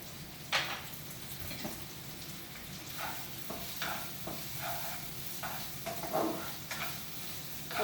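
Onions frying in a pan with garlic and pepper, a steady close sizzle broken by occasional stirring scrapes and clicks, with no talking.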